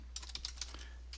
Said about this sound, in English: I'm going to type in my project address